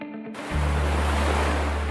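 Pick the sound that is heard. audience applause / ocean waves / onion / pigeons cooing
ocean waves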